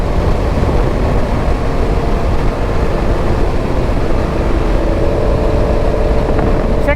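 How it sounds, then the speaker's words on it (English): Honda Africa Twin CRF1000L adventure motorcycle cruising along a straight road in Rajasthan, a steady engine drone mixed with heavy wind rush, loud and continuous without pause. "And this is a Honda Africa Twin CRF1000L. It's not a sport bike."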